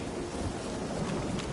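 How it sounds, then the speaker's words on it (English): Rain and thunder in The Witcher 3 video game, a dense steady roar of rainfall with a low rumbling underneath, loud and continuous with no speech. "Thought it started raining too."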